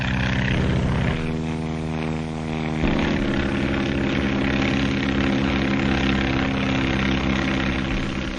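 A 1935 skywriting propeller airplane, built strong for turning and twisting and cruising over 120 miles an hour, drones steadily overhead with a loud, continuous engine hum that shifts pitch partway through, no voices.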